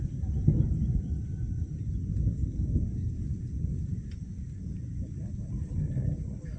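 Continuous low thunder rumbles through a rainforest storm on the Transjuruti road, a dense and unbroken roll that carries at an even, moderate level for the whole stretch.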